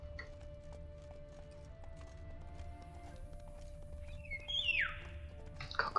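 Faint, soft hoof clip-clops of a horse in The Witcher 3 video game, steady under a low ambient bed with a brief whistling call near the end.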